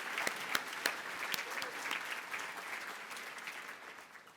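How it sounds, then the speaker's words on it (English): An audience at an evening business hall of fame gala claps for several seconds, a brisk patter of many hands that slowly fades, with no talking over it. "Can we give her a round of applause?"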